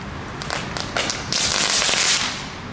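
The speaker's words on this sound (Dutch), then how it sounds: "Ja, jongens, de nieuwe knetterkogels." Crackling firework balls go off outdoors in a dense, continuous rattle of sharp pops and snaps, building to a sustained loud crackle over a couple of seconds before easing slightly.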